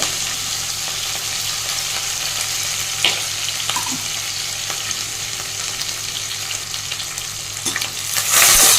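Green chilies and curry leaves sizzle in hot oil with onions, a loud, continuous crackling fry with occasional spoon scrapes, close up, swelling louder toward the end.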